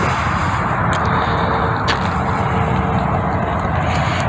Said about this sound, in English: It's just such loud traffic because Olive Bridge right there.